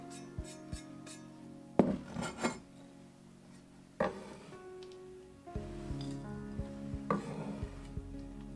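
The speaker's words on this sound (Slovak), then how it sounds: "nasekám rebríček na drobno, aby sa uvoľnili všetky liečivé silice a zložky bylinky" A knife chops yarrow herb finely on a board, giving a few sharp, close knocks and short bursts of cutting scattered through an otherwise quiet stretch.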